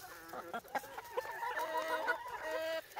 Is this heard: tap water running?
no